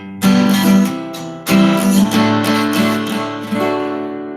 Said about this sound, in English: And if we try it with the guitar,